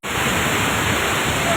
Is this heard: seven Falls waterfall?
yes